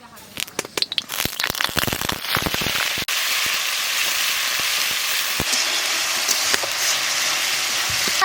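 Onion paste goes into hot oil with cloves, cinnamon and cardamom for a tiger prawn curry. A few clattering knocks come first, then a loud, dense crackling sizzle bursts up and holds steady and close.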